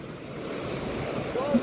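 Choppy sea water and waves wash constantly near the coast at Herzliya, with wind noise mixed in, forming a steady rough roar with no clear breaks.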